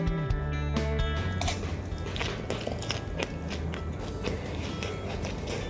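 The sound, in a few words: eating a crispy rice paper roll with japchae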